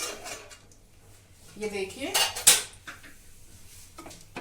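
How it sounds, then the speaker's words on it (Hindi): A pressure cooker holding spinach and other boiled green leafy vegetables is opened after its pressure has been released, with a burst of sharp metallic clanks of lid and utensils in the middle and someone talking briefly. "अब मैं कुकर खोलती हूँ।"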